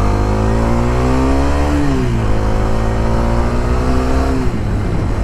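A Bajaj Dominar 250 motorcycle engine running loud and close, its pitch rising and falling as it revs steadily, with no talk over it.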